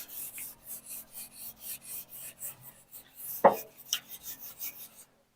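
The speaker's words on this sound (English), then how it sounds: "Let's go ahead and give that a good scrub." Hot cast iron grill grates on The Judge grill are scrubbed hard in quick, even back-and-forth strokes, a close rhythmic rasp with a single sharp metallic clank partway through.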